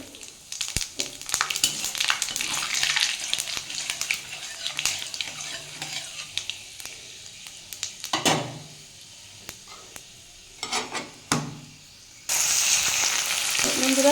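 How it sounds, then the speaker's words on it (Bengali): Dried red chillies and panch phoron hit the hot oil left after frying a fish head, crackling and sizzling amid scraping stirs and clinks of a utensil against the pan, ending in a sudden loud, steady hiss. "এবার এর মধ্যে একটু শুকনো লঙ্কা আর পাঁচ ফোড়ন দেবো ফোড়নের হিসাবে"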